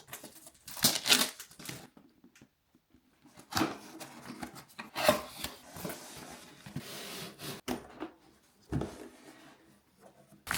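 Unboxing a Jolt Bolt Plus massage gun: scattered close rustling, rubbing and scraping of packaging in short bursts with quiet pauses between them.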